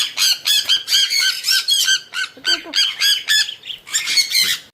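Newly bought pet birds squawk loudly and repeatedly while being caught and put into a cage, with dense, overlapping harsh calls in bursts and barely a pause between them.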